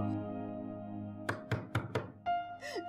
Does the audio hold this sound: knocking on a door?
yes